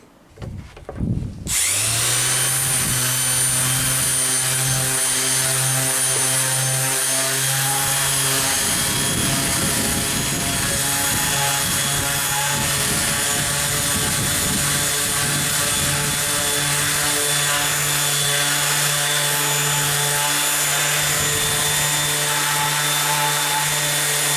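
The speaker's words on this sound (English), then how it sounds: "So, time to get sanding." A steady, droning mechanical whir runs nearly continuously at close range while sanding motorcycle paint with a Scotch-Brite pad, with a rough scraping texture layered over a constant motor hum.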